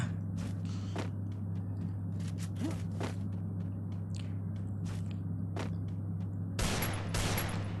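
Gunfire in a shooting video game: scattered sharp shots and short bursts over a steady low hum, fairly quiet, with a denser louder volley near the end.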